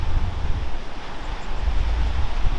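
Ocean waves breaking near the shore and rolling into whitewash where surfers ride, a steady low rumbling wash with gusty wind buffeting the microphone, continuous and fairly loud with no voices.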